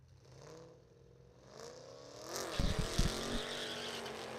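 Drag strip race between a Ford Mustang and a 2013 Chevrolet Camaro, engines building from a distant drone to a loud roar as the cars launch, with sharp bursts and crackles midway, then a sustained high-revving run.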